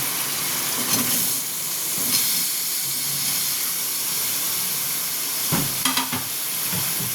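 Shrimp and unripe melon sautéing in a pan, with a loud, steady sizzle and hiss and occasional stirring scrapes near the start and end; no talk.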